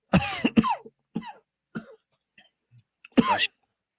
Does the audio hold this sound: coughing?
yes